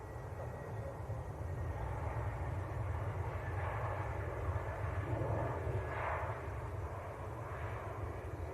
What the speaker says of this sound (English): EasyJet on finals.